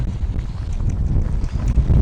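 Gusty wind sweeps over a hay field with raked windrows, a continuous low buffeting rumble on the microphone with no voices.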